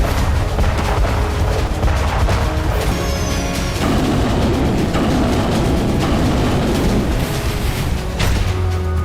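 Repeated explosions from naval mines in the Black Sea, loud and dense booms and blasts running back to back throughout with rumbling low end and no talk.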